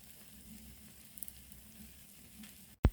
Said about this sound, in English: Let's give our omelette a few minutes. Ensure that you keep checking so that it doesn't burn out.